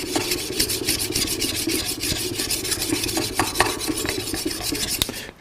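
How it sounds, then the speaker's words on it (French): A drawknife's steel scrapes back and forth on a water stone in rapid, rhythmic rasping strokes, close up and steady throughout. "Et puis, on va passer cette pierre à eau."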